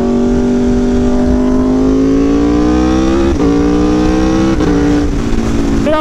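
A motorcycle engine drones steadily while being ridden, its pitch climbing smoothly as it accelerates, then dipping briefly at gear changes before rising again, loud and close under constant wind rush.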